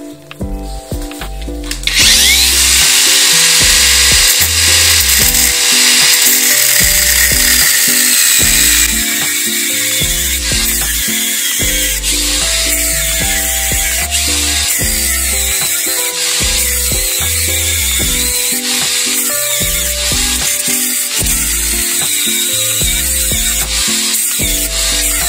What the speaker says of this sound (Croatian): Tako da ide brusilica u krug,